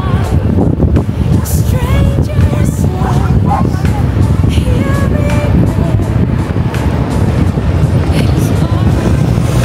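Strong gusts of wind buffet the microphone on a seaside baywalk in Zambales, a loud continuous roar with rumbling low bursts, while someone speaks over it.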